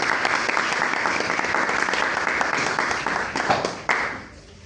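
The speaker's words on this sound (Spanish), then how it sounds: "Un fuerte aplauso, por favor." An audience at a talk on nutritional support for cats and dogs applauds with dense, steady clapping that holds for several seconds, then tapers off quickly.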